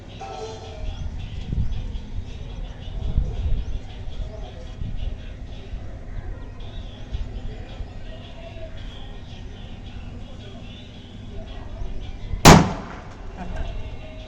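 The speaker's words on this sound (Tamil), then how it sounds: "பார்த்துருப்பீங்க, செமையாக வந்து வெடிச்சிருச்சு." A large paper bomb firecracker goes off with a single sharp, loud bang near the end, cutting through quiet outdoor background noise.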